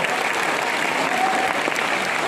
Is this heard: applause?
yes